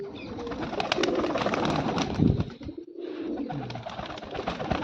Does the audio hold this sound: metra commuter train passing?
no